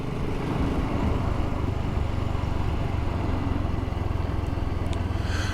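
Steady, unbroken engine drone and wind rush from a BSA Goldstar motorcycle out on a ride, holding a loud, even level throughout with no pauses.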